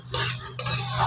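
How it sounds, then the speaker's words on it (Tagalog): Squid adobo in coconut milk is stirred in a hot pan, two quick scrapes of a utensil cutting through a steady close sizzle. "Kailangan halo-haloin lang ng halo-haloin."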